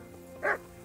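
A single short dog bark rings out at moderate distance in the video game Kingdom Come: Deliverance, one brief yelp over a faint background hum.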